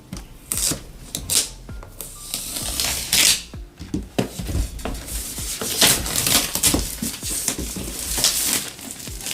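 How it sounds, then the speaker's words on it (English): Cardboard packaging box for a HOTWAV R9 Plus tablet being cut open, with busy crinkling, scraping and tapping handling noises throughout, close and moderately loud, no talking. "I'm going to cut the package and open."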